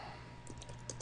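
Brisk, faint keystrokes on a computer keyboard as code is entered in Visual Studio 2010, a quick irregular run of soft clicks with no talk.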